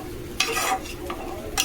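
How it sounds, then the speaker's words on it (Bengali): Katla fish curry with mustard is stirred in a sizzling pan, a few distinct scraping strokes over a steady frying hiss, close and fairly loud. "জল দিয়ে একটু নেড়ে নিয়ে তারপরে জল দিয়ে দেবো।"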